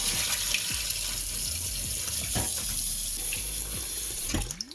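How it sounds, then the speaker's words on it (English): Boneless saltfish rinsed under a running kitchen tap, with a steady splashing stream of water hitting the fish and sink, with small clatters and drips throughout and no talking. "So you want to rinse it off a few times."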